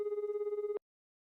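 A phone ringback tone buzzes in a steady pulsing ring for most of a second, then cuts off into silence.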